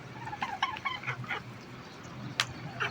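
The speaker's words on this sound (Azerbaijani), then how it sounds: "60-70'ə yaxın qaz." A flock of farm geese kept for sale, around sixty to seventy birds, gives short honking, clucking calls, several in quick succession and then a sharper cry later, over a low steady background murmur.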